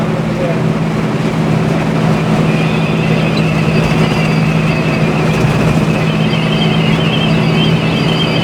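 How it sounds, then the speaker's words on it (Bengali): Hino AK8J bus engine droning steadily while the coach drives at high speed, a continuous loud low hum mixed with road and wind rush heard from inside the cabin, no break for the full length. "এর যে ইঞ্জিনের যে অরিজিনাল সাউন্ড আপনারা সেটা শুনতে পারেন এখানে"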